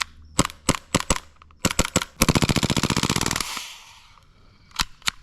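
An AAP1 airsoft pistol fires close and loud: several single sharp shots, then a rapid full-auto burst that trails off into a hiss, followed by two more isolated cracks.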